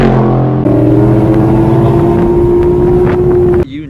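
A Factory Five Type 65 Cobra Daytona kit car drives with a loud, steady engine drone and strong wind rush, its tone stepping up briefly before the noise drops away at the end.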